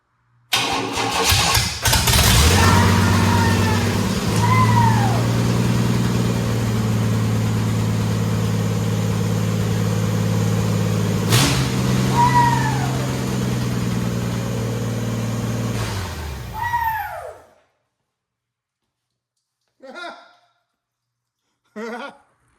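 A Master Deluxe project car engine cranks, catches and runs with a loud, steady idle and a few revs, then shuts off, leaving silence broken by two brief later noises.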